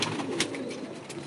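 A brief stretch of pigeons cooing nearby, low soft burbling calls blending together with light background rustle.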